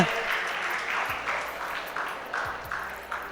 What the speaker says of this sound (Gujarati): આપણે તાળીઓ ચાલુ રાખીશું.